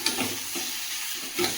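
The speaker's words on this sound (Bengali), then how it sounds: "ভাজা চিচিঙ্গে।" Snake gourd stir-frying in a pan on a home stove, a steady soft sizzle with a few brief scraping stirs and no speech.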